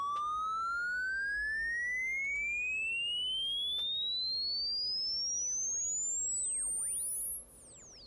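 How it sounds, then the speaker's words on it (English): High digital aliasing tone from a JUCE audio plugin, sweeping steadily upward like a spaceship taking off, with faint mirrored partials folding down and crossing; alone, no talk. "you hear the aliasing now? Right at the top. That's that spaceship taking off sound."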